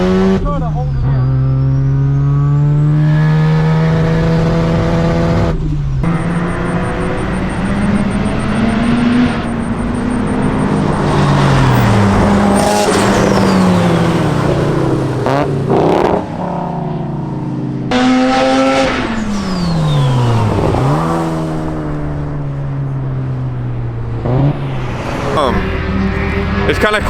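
A turbocharged Mazda RX-7 FC race car engine roars up and down through the gears on a track, revving hard and dropping off repeatedly, loud and close throughout.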